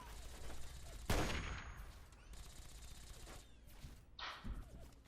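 Gunfire in Fallout 3: a loud burst of shots lands about a second in, then trailing crackle and a second burst near the end, with game noise throughout.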